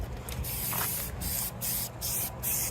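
Spray paint hisses from an aerosol can onto an M1 helmet from the Vietnam War, several steady bursts of close, loud spraying, each lasting about half a second, separated by brief pauses.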